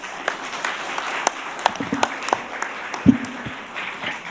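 An audience at a human rights forum round table breaks into scattered, moderate applause, with a few sharp individual claps standing out amid light background murmur.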